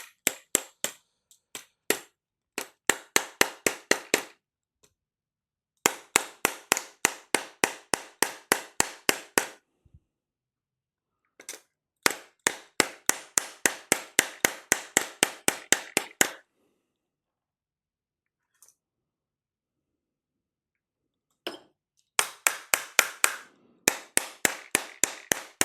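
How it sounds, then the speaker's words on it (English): Rapid bursts of sharp taps as a 3D-printed front end is hammered onto a Saiga 12K HPA airsoft shotgun, close and crisp, coming in quick volleys of a dozen or so strikes separated by pauses. "Okay, so I'm just going to hammer this guy slightly down."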